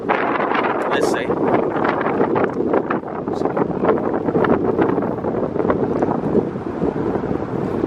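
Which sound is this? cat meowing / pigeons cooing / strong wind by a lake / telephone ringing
strong wind by a lake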